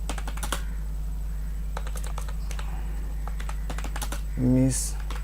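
Rapid keystrokes on a computer keyboard while entering text in WordPad, a steady stream of close clicks and taps with short pauses over a constant hum, ending in a brief tonal beep.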